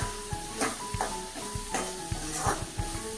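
A spoon stirs spiny gourd curry with spices and dried mango powder in a pan over a soft sizzle. Irregular scraping knocks repeat every half second or so, and a voice is faintly present.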